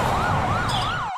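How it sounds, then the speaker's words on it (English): A police car siren wails loud and close, sweeping up and down in a rapid rhythmic cycle before cutting off abruptly. "Police sirens racing to yet another scene of violence"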